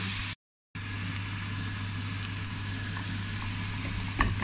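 Onion fries in a pan for spaghetti bolognese, a steady, close sizzle with a faint low hum underneath, briefly cut to silence near the start and then crackling on evenly, with no talking.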